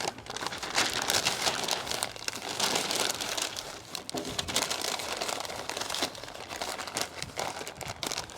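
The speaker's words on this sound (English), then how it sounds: "We're gonna go ahead and spray down the butcher paper with some of that Wagyu fat." Continuous crinkling and rustling of stiff butcher paper being folded around a brisket close up, steady and fairly loud throughout with no talking.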